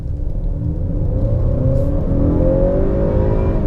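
A 2018 family sedan accelerates hard at full throttle, its engine rising in a loud, close, continuous roar as the revs climb, with no talk over it.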